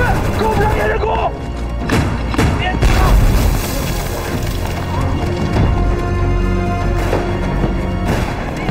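Staged gunfire and booming explosions from a kung fu war film battle against bandits, dense and continuous with repeated thuds and crashes, mixed with music and shouted voices.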